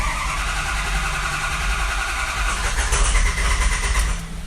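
A vehicle engine, just fitted with a replacement FICM, cranks and runs with a steady mid-pitched drone that swells slightly toward the end, loud and close with no talking.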